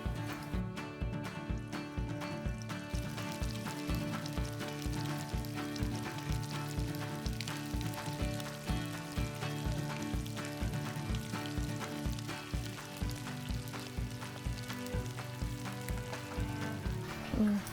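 Flattened Thai pork cakes deep frying in hot oil, a steady crackling sizzle with rhythmic popping bubbles running continuously and evenly throughout.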